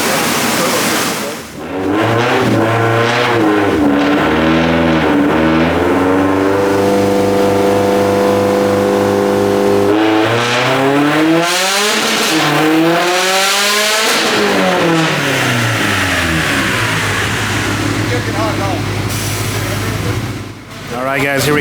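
Subaru STI on a dyno doing flat-foot no-lift shifts through the gears, engine loud and close, climbing in pitch, dropping sharply at each shift and rising again, with a roar of fans underneath.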